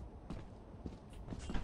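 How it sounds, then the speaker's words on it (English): Footsteps in the video game Lethal Company, several quiet irregular thuds over under two seconds, faint and close with a dull hollow texture. "Did I just hear a footstep?"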